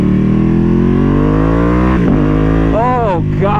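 A Ducati Panigale V2 twin-cylinder motorcycle with a burble tune revs loudly and steadily up through rising pitch, then crackles and blips as the throttle is blipped in the closing seconds, close to the listener with a voice briefly heard alongside.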